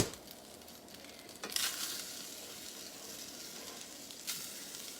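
Sausage and handfuls of flour frying in a pan for sausage gravy, a steady quiet sizzle with a louder burst of crackle as the flour goes in and another brief flare near the end, no voices.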